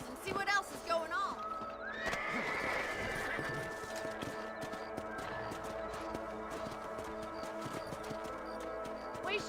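Horses in the Red Dead Redemption video game clop along with rapid hoofbeats and a whinny, under voices and ambient game sound.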